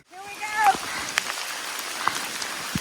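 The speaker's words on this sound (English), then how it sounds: "As you can see, it is pouring rain." Cold, pouring rain on the Appalachian Trail makes a steady broadband hiss of drops, with a few louder close impacts and a brief voice-like tone near the start.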